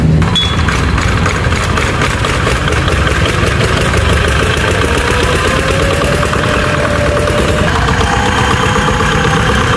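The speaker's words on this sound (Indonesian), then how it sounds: "untuk mengimbangi ketika mau menyalakan mesin dengan manual engkol" An 8HP diesel engine driving an FFC 23 flour mill runs after a hand-crank start, its loud, steady knocking chug close and continuous without any talk.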